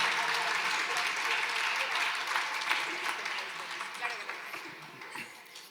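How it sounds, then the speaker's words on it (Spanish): An audience in Arequipa applauds a singer with full, crackling clapping that gradually thins and fades toward the end, with faint voices underneath. "Un aplauso nuevamente para ella, por favor."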